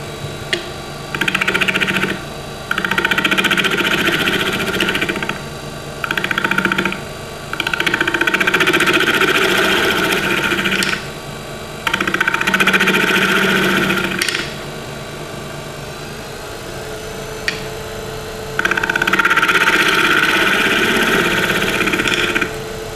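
A woodturning lathe turning an off-center pendant gives a steady motor hum broken by repeated stretches of louder, higher whirring, close and continuous.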